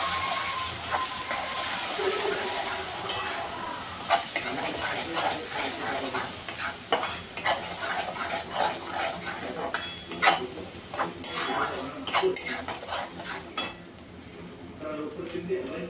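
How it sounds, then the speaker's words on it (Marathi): Ground masala is stirred in a hot pan for a mutton dish, giving a steady sizzling hiss with repeated scraping and clinking of the spoon against the pan, with a voice talking over it. "आपण वाटलेला हा मसाला. चांगलं हलवून घेऊया."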